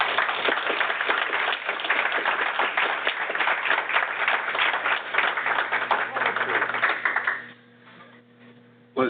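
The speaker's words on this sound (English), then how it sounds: "let's give him a round of applause" An audience claps steadily after a hospital grand rounds talk. The applause is a dense, fairly loud patter of many hands that carries on for several seconds, then drops off sharply toward the end into a quiet background hum.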